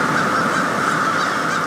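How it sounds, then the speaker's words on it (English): A dense crowd of black crows calls at dusk, a continuous loud mass of overlapping caws filling the air with no pauses. "Thousands of black crows animating the night sky, flying in from all directions and calling to each other as they look for places to perch."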